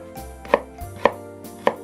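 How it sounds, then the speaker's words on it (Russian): Three crisp knife chops through onion onto a cutting board, evenly spaced and close, with no voices. "Лук нарезаю мелко, как на пельмени. Сначала прорезаю на полосочки"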